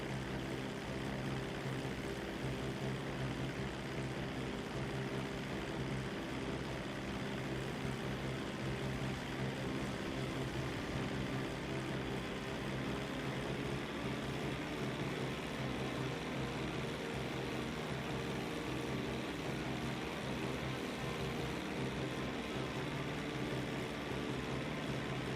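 Airplanes in the video game GTA V give a constant, loud propeller engine drone that stays steady with no breaks or talking for the whole stretch.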